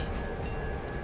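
A train rolls along steadily in the railway video game Railroader, a close, continuous rumble with no pauses over a short moment.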